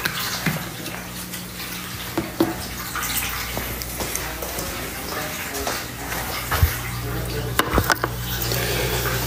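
Water runs into a water bowl outdoors in Florida, a steady splashing trickle under low background sounds, with a few louder bumps and drips standing out along the way.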